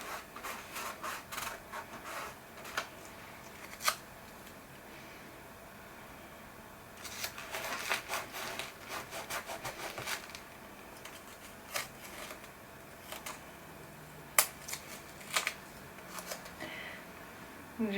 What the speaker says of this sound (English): So I'll put some masking tape on